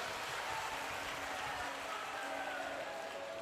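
A religious gathering's audience applauds to welcome a host family: steady, dense clapping from a large crowd, sustained and even without a break, moderately distant and fairly quiet.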